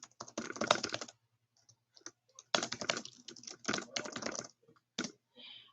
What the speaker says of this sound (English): let me type this so I don't make a total fool of myself